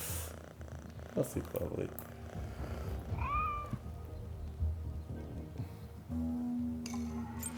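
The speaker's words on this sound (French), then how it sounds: "J'ai jamais dit que je voulais caresser le chat." Cat in the video game Assassin's Creed Mirage purring and giving a couple of rising meows close by, mixed with game ambience while someone speaks briefly.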